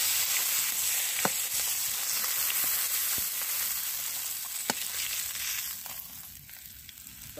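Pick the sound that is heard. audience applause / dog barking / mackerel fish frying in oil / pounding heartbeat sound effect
mackerel fish frying in oil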